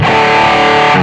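Electric guitar through a Zoom G3Xn multi-effects processor on its intro patch, a loud, distorted sustained chord held close for about a second.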